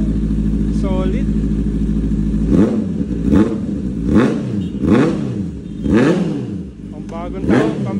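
A brand-new Honda CB650R with a new aftermarket exhaust, loud and close, idling and then blipped in five or six sharp revs that rise and fall in a regular rhythm.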